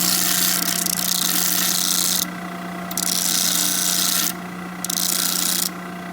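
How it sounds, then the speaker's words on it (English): A small sanding wheel rounds off the edge of a metal shift linkage for an Impala's transmission, grinding in three steady, loud passes with brief quieter gaps between them. "We'll take this to the little sanding wheel here. Just kind of round it off"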